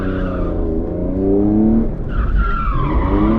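Rental BMW E46 M3 drift car sliding with loud, close tire squeal, the engine note rising and falling across a continuous skid that shifts pitch midway.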